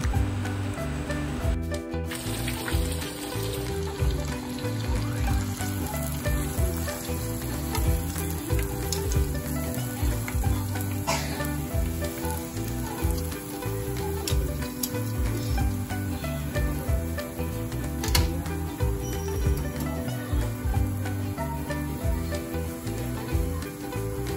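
Tonkatsu and tamagoyaki for a Japanese donburi fry in a pan until golden brown, a steady, close crackling sizzle running continuously under a low hum, with no voices.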